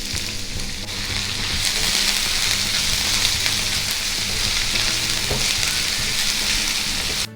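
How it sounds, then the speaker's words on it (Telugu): Onions frying in oil in a pan give off a loud, dense, steady sizzle that runs without a break and stops abruptly at the end. "ఈ ఉల్లిపాయలు ట్రాన్స్పరెంట్ అయ్యే వరకు వేయించుకోవాలి."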